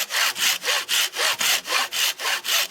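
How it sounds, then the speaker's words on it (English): A hacksaw cuts through a hose gripper connector in quick, even back-and-forth strokes, about nine rasping passes close to the microphone and with no other sound. "All you need to do is saw it off with a hacksaw"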